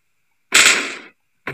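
A single sharp gunshot rings out in the battle royale game PUBG Lite and decays over about half a second, followed by the start of another burst, with no talk.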